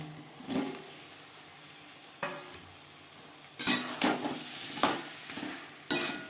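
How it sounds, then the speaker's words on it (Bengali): Potatoes stirred with spices in a pan for an aar fish curry: irregular scraping strokes, some soft and some sharper and louder, arriving in uneven bursts with no voices. "মশলার সাথে আলু বেশ ভালো করে মিক্সড করে দেব"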